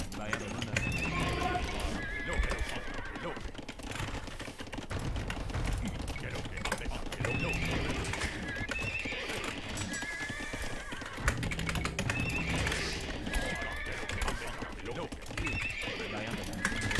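Knight cavalry horses in an Age of Empires match neigh and whinny amid steady clip-clop hoofbeats, layered over busy battle and game noise throughout, with a player talking over the top.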